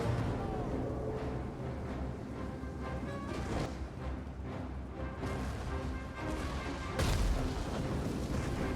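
Ottoman artillery cannon fire during a siege, a dense continuous roar of booms and rumbling blasts with a heavier burst near the end, loud and sustained throughout.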